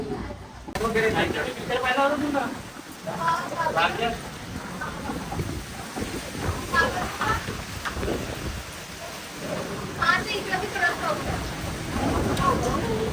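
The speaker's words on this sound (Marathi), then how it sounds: "कारांचा पाऊस पडतोय" Heavy rain falls in Nagpur during an outdoor shoot, a steady broad wash of downpour beneath people talking nearby throughout.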